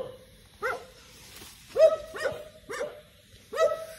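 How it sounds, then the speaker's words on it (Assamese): A dog barks at a petrol pump at night in separate bursts, about five sharp barks spaced unevenly, moderately close with quiet outdoor background between them. "সেইফালে কুকুৰটোৱে পুৰা ভুকি আছে"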